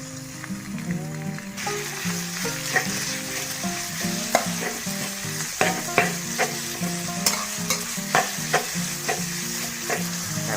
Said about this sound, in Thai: เดี๋ยวเจียวให้เข้ากับกระเทียมนิดนึงแล้วก็จะได้ใส่ หมูตามนะครับ หมูสับตามลงไปครับ